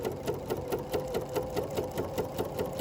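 A Bernina sewing machine with dual feed engaged stitches in a steady, rapid mechanical rhythm, close and clear, with no voices.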